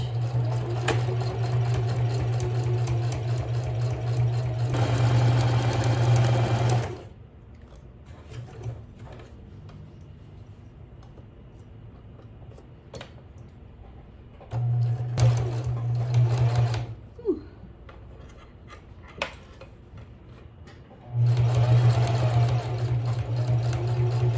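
A sewing machine stitches through the lining, zipper and fabric of a travel bag in three separate close, steady whirring bursts, with quiet pauses and small handling noises between them.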